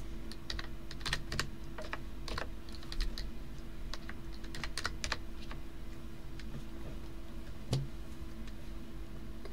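Rapid typing on a computer keyboard during a Roblox game stream, a steady stream of close, crisp key clicks in uneven bursts over a constant low hum, with no talk.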